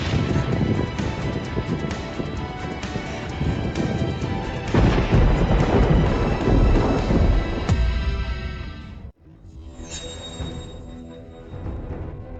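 Loud, rolling thunder crashes and rumbles continuously, cuts off abruptly, then a quieter rumble returns.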